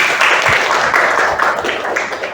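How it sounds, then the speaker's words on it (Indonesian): Students in a junior secondary classroom clap for a group of classmates, a short, loud, dense burst of clapping that stays fairly even before tapering slightly. "tepuk tangan buat kelompok 2"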